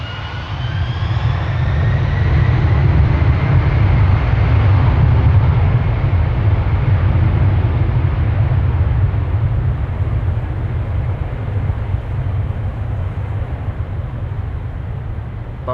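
An airplane departs Amsterdam Schiphol Airport, its loud engine roar rising and swelling nearby for several seconds, then slowly fading while the low rumble stays strong.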